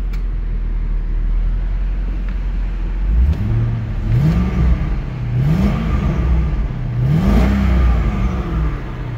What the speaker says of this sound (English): LS1 engine runs and performs just like it should.